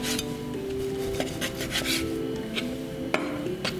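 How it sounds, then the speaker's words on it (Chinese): A knife slicing pork into small cubes on a board, with repeated scraping strokes and a few sharper cuts close by, mostly free of talk. "现在把它切成一粒一粒"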